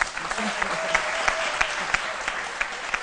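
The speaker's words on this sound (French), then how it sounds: "Et je crois que ça doit s'applaudir." A studio audience on a French midday TV show applauds a female bassist, a short burst of dense clapping with individual claps standing out, continuous and fairly close.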